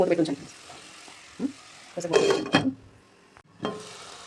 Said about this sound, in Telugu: ఇప్పుడు దీన్ని కలిపిద్దాం మనం ఇలా కలిపేసి